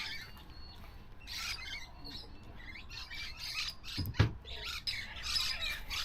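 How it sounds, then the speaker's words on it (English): Several birds squawk and chirp in an outdoor setting, calls overlapping at moderate distance, with one sharper, louder burst partway through. "Man, listen to all those birds."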